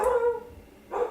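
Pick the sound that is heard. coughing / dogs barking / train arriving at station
dogs barking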